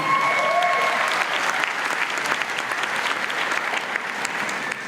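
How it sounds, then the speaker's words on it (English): A graduation audience at Murdoch University Dubai bursts into sustained applause, a thick, continuous clapping crowd heard from within the hall, with a faint tone briefly audible at the start. "A round of applause there too, I think."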